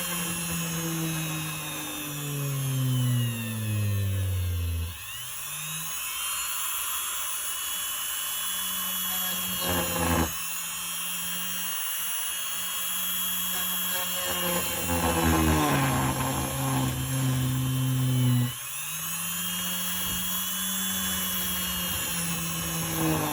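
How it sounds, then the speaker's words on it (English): A drill bores a hole into a plastic puppet head, its motor whining up and down in pitch through several long, fairly quiet runs with short stops between them. "So I'm gonna drill the hole first."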